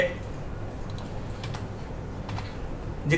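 Typing code on a computer keyboard, a steady run of soft, quick key taps over a low background hum, close and moderately quiet.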